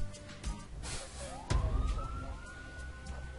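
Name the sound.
police car siren in video game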